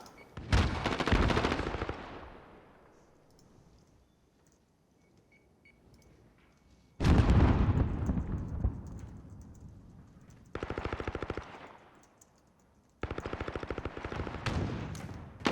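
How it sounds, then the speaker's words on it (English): Video game gunfire in a competitive search and destroy match: loud bursts of rapid automatic fire trade back and forth, separated by short quiet gaps, with no voices over them. "We're going to see the gunfire go back and forth"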